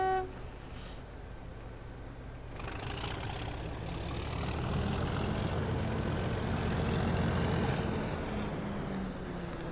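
A diesel locomotive engine runs steadily at close range, a low rumbling drone that rises in intensity and pitch after the first few seconds, with a long whining tone climbing above it, then eases slightly near the end.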